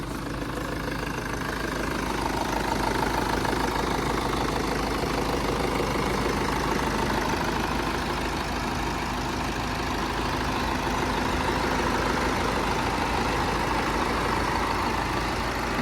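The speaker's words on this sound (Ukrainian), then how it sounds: "Послухаємо двигуна." A 2019 BMW 520d xDrive with a B47D diesel engine idles steadily and quietly nearby, a smooth continuous hum with light diesel clatter and no talking.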